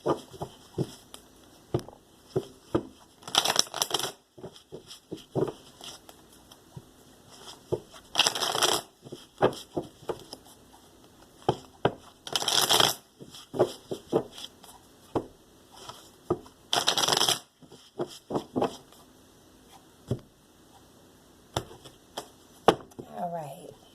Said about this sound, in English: I'll shuffle up the cards.